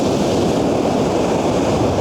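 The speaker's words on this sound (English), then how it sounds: "the foamy white waves are just what I need with the warm wind this morning" Foamy white ocean waves rolling in at sunrise with a warm morning wind, a steady, loud wash of surf and wind rumble filling the whole stretch with no voices.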